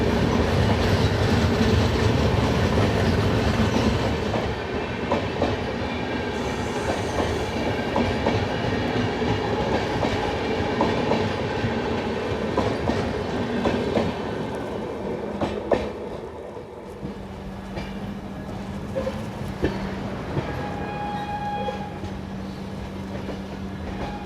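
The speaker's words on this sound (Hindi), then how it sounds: "तो ये है आपकी अहमदाबाद से आने वाली, दरभंगा को जाने वाली साबरमती एक्सप्रेस।" Sabarmati Express from Ahmedabad to Darbhanga rolling past near Ujjain Junction, a steady rumble with rhythmic clickety-clack of wheels on rail joints throughout, and a faint whistle or squeal tone toward the end.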